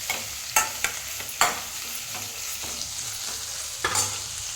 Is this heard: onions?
yes